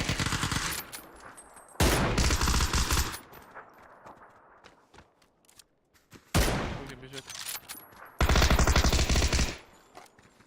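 Bursts of rapid automatic gunfire in the video game PUBG, loud and close, in several long volleys separated by quieter stretches with faint voices.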